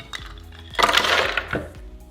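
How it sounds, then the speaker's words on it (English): Ice cubes clatter and clink as they drop into a blender jar, a short burst of rattling impacts, near and moderately loud. "add a lot of ice in your blender"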